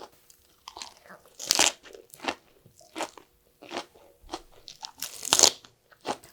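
Fresh vegetables are eaten served with a fermented shrimp dipping sauce, giving loud close crunchy bites and chewing in irregular bursts separated by short silences, with no talking.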